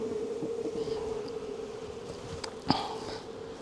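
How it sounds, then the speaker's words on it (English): Honeybees hum steadily at an opened beehive in October, a continuous low drone with a faint nearby buzz rising and fading, and a brief knock or bump partway through. "Right, not a huge amount of bees in here."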